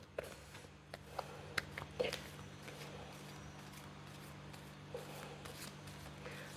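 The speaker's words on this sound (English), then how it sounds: "just let me do a couple more shuffles here" Tarot cards are shuffled by hand in soft, close riffling and slapping bursts, quiet and irregular, with no talking.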